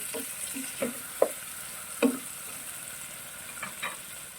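Hard sweet potato pieces added to a frying pan while cooking pakbet, with a steady background sizzle broken by a few scattered scrapes and knocks from stirring, close and without talk.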